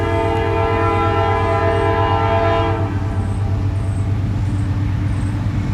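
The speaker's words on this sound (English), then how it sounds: "There's a train, Salak." Passing train sounding its horn outdoors in a park: a loud, sustained blast for nearly three seconds, then the horn cuts off, leaving the heavy rumble of the rolling cars.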